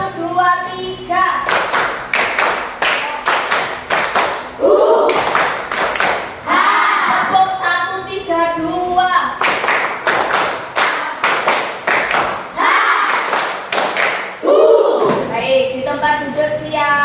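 A classroom of children claps a counted 'tepuk 1, 2, 3' chant in sharp, loud bursts of unison claps, grouped in short rhythmic runs that repeat twice, with voices chanting along between the claps.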